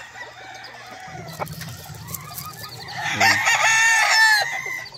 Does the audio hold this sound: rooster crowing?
yes